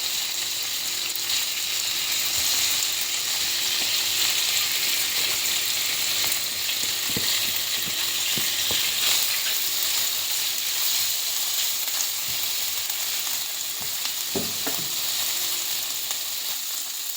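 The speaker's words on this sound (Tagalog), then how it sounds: "fry lang natin siya ng around 3 minutes" Salmon fries in olive oil in a pan, a steady loud close sizzle throughout with a few soft clicks of the utensil against the pan.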